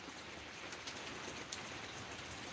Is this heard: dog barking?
no